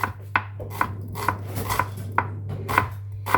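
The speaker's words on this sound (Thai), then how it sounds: "ช่วงที่รอให้น้ำมันร้อน ก็มาหั่นหอม" Sharp knife chops on a cutting board as shallots are sliced, about nine evenly spaced strikes, close and crisp over a low steady hum.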